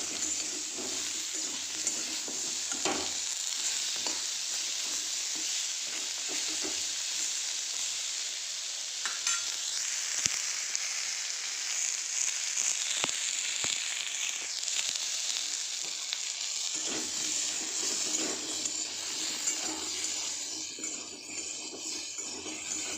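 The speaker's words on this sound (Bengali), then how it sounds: "হলুদ দিয়ে একটু ভেজে নেবো লাল লাল করে" Spices and oil sizzle and crackle steadily in a hot pan, turmeric frying before potatoes go in for a Bengali home-cooked meal, with occasional stirring clinks; continuous, close and fairly loud, no talking.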